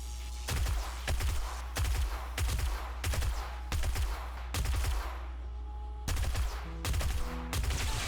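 Bursts of gunfire in the video game 7 Days to Die, during a day 49 zombie horde, firing in about eight loud, evenly spaced volleys of rapid shots.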